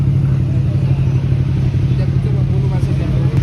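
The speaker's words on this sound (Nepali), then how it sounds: "यहाँ चाहिँ रेब हान्नु पर्ने हुन्छ" Bajaj Pulsar 150 motorcycle engine running close by at a biker meetup, a steady low throbbing idle with slight rises, while people talk over it.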